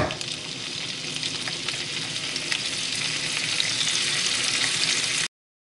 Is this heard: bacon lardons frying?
yes